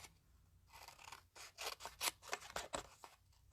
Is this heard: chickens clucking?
no